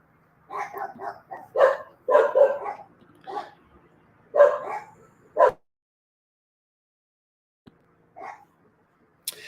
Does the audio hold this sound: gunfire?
no